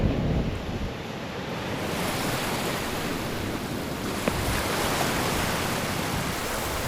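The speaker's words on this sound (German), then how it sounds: "Schaut mal, wie die Wellen hier krachen." Steady roar of surf breaking against rocks on the south coast of Mauritius, continuous and fairly loud, with wind noise mixed in and no voices.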